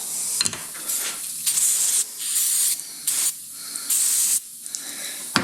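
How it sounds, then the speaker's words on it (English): Compressed air blows in short repeated bursts on John Deere 110 tractor tilt cylinder parts, each loud hissing blast lasting about half a second to a second with brief gaps between. "Got some compressed air."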